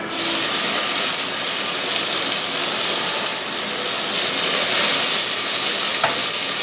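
Thick-cut bacon pieces fry in a hot Dutch oven, giving a loud, steady crackling sizzle throughout with a brief sharper pop near the end, no voices over it.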